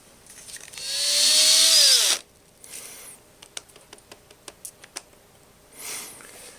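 A power drill with a 1/4 inch bit drilling into a magnesium bar whines loudly for over a second, its pitch sliding down as it slows, followed by scattered clicks and taps and a brief second whir.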